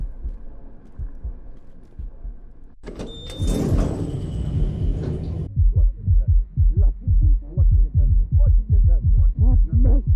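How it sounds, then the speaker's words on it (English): In the elevator of the game Finding Frankie, a low ambient hum gives way to a noisy burst, then a steady series of soft, rhythmic thumps like a heartbeat, repeating evenly to the end. "We can hear the faint sound of a heartbeat"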